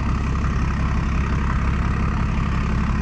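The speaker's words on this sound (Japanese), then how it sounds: "エンジンがかかりました" A heavy industrial-waste truck engine idles nearby, a steady low rumbling throb with a constant even chug throughout and no voices.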